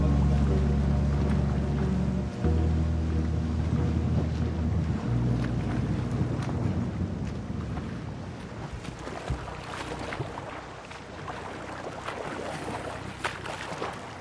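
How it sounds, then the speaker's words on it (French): Rough sea in the English Channel heard from a boat, with steady wind buffeting the microphone, a low engine drone that cuts out early, and water splashing and slapping against the hull. "Les vagues là, putain."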